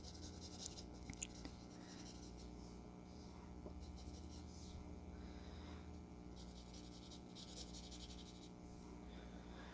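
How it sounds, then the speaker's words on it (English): Soft, steady scratching of a pencil lightly shading a drawing of a head on paper, close and quiet, in gentle strokes that come and go in short bursts. "So we're just going to start putting in some light shading to kind of create this shadow over here instead of drawing it as a line."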